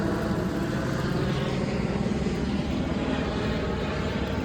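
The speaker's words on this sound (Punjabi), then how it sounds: "ਜਹਾਜ਼" Continuous loud engine roar of an aircraft overhead on the mountain trek from Govindghat to Govind Dham, a steady broadband rumble that never lets up.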